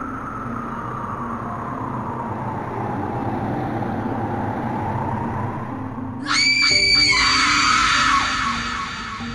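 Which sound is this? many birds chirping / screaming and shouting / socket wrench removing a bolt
screaming and shouting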